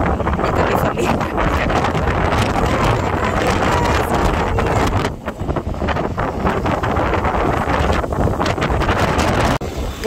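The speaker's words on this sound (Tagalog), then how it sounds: "Grabe yung hangin, guys." Strong wind in Marseille, France buffeting the microphone in loud, continuous roaring gusts, with a brief dip midway before it surges back.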